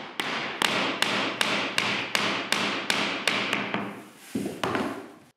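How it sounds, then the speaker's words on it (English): A hammer strikes a tapping block about a dozen times in a steady rhythm, sharp close knocks on laminate boards with brief ringing after each. "Tap the boards like so using a tapping block and a hammer to seat the boards in place."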